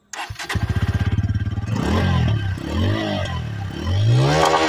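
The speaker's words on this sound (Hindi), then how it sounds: "एग्जॉस्ट साउंड भी मैं आपको अभी सुनाता हूँ" A Bajaj Pulsar N150 motorcycle with a short exhaust starts with rapid pulsing putts, then revs up and down in several throaty bursts of exhaust, close and loud, with no talking.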